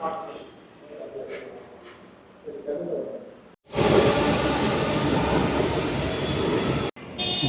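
A Bangalore metro train rolls through, with quieter station ambience and talk first, then a loud, sustained rumbling roar of the carriages that briefly cuts out near the end.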